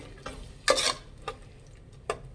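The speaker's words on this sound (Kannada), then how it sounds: "ಕಾಯಿ ಹಾಕ್ಕೊತಾ ಇದ್ದೀನಿ, ರುಬ್ಬಿರೋ ಅಂಥದ್ದು, ಮಿಕ್ಸ್ ಮಾಡಿ" Ground coconut being stirred into tomato masala in a pan for cauliflower biryani, with a few scraping strokes and one louder, longer stir amid a soft sizzle, close by and with no talk.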